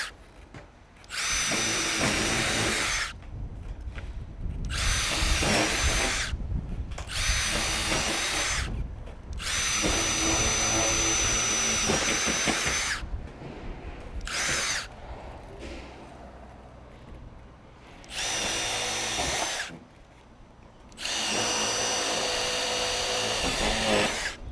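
A power drill bores rivet holes in a Colorbond metal roof ridge, running in five or six loud, sustained bursts of whining with short silent gaps between them.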